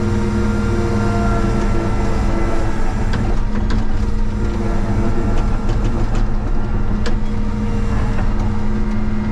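A Cat 953C track loader runs steadily at close range while busting trees, its loud continuous engine drone and track clatter broken by a few sharp cracks and knocks of snapping wood.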